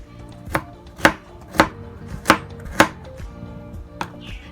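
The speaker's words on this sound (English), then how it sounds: "chopping carrot like this for salad or coleslaw" A knife chops carrots into cubes for coleslaw on a cutting board, six or seven sharp, evenly spaced thuds close up with quiet gaps between them.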